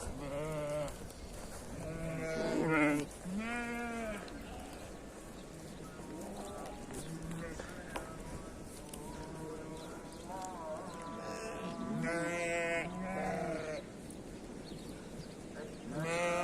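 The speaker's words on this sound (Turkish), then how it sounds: "Koyunları çıkardık. Bunları sulayacağız." A flock of sheep on a Turkish farm bleats repeatedly, several animals calling near and far over a steady background of shuffling livestock, with occasional overlapping cries.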